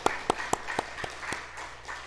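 A church congregation breaks into applause during a Sunday service, with sharp separate claps in a loose rhythm that thin out over about two seconds, moderately loud in a reverberant room.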